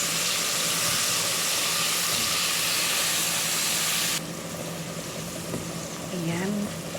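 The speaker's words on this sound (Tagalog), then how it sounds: "So start na po tayo sa paggigisa ng ating mga sangkap." Sliced onion sautéing in a pan as the base for a pasta sauce, a strong continuous sizzle that abruptly drops to a softer hiss partway through, while someone talks quietly over it.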